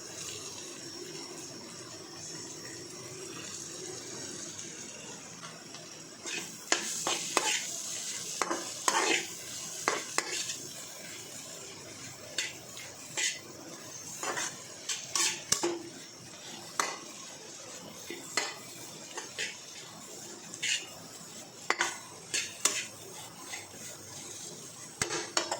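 Chopped parotta is tossed and stirred in a sizzling pan for egg kothu parotta, a steady frying hiss broken by repeated sharp metallic scrapes and clanks of the utensil against the pan, close and fairly quiet, with no voices.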